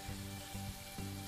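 Sliced onions frying in ghee for pulao, a steady close sizzle with soft stirring strokes repeating about every half second, no talk over it.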